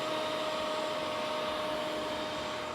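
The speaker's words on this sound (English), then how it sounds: "make sure the dust collector is powered up to collect the chips" A dust collector and router running together on a Jessem power-feed router table, a steady loud whining roar with a constant high tone, unbroken throughout.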